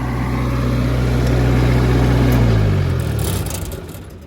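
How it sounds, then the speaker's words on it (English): A pickup truck engine idles with a low, steady rumble, its pitch easing down as it winds off and fades toward the end. "Wow, I must have left my truck running."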